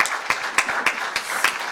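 Audience applause for a telemedicine startup presentation at an awards event, steady clapping with a few sharp individual claps standing out over about two seconds.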